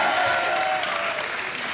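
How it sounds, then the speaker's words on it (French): Studio audience applauding steadily at a televised quiz show between school teams, a dense even patter of clapping filling the whole moment with no talk. "On peut l'applaudir."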